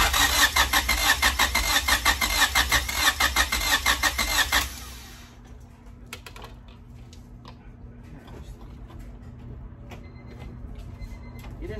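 A Honda B16 engine cranking hard with a loud, rapid starter chatter for several seconds, then cutting off to a quieter low hum with scattered faint clicks and knocks.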